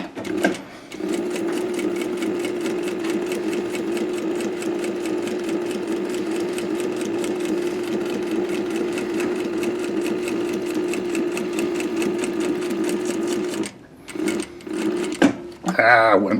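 Sewing machine stitching a skydiving BOC pocket, running in a steady rapid mechanical rattle for most of the span, then pausing and restarting in short bursts, with a person talking over it.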